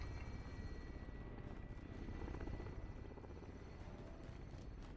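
Helicopter in Call of Duty Warzone Plunder mode, a steady low rotor thrum and chopping drone running throughout at moderate level against a busy game background.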